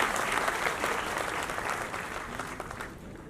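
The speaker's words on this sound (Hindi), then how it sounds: "और तालियां बजाते हैं अपने स्वागत के लिए।" Dense, sustained audience applause at an award ceremony for outstanding students, a loud, even wash of many hands clapping that fades slightly toward the end.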